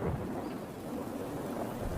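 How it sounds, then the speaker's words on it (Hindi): A steady, dense roar of heavy rain with a low rumble underneath, constant and loud throughout with no voices. "तभी अचानक जोर से बारिश शुरू हो गई।"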